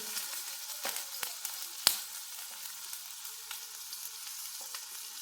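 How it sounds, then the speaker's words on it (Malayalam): Green chillies, ginger and garlic fry in hot oil, giving a steady hiss of sizzling with a few soft clicks and one sharp tap of a utensil, heard close with no talk. "ഇനി ഇഞ്ചിയും വെളുത്തുള്ളി ഇടാം എണ്ണ ചൂടായി വരുമ്പോൾ പച്ചമുളക്"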